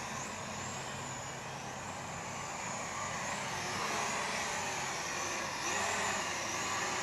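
An E58 Mark V budget drone on brushed motors whines in a high, thin buzz that rises and falls in pitch as it maneuvers, fairly faint against background noise, with no talk.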